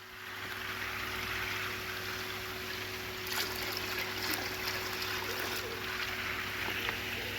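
Pond treatment liquid trickles steadily into a pond filter's bio chamber, a continuous soft watery pour and splash running throughout under a faint background hum.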